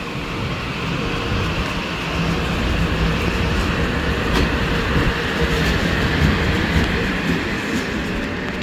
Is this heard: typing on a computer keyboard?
no